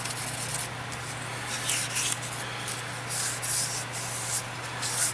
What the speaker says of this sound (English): give this one a light sand, just very light sand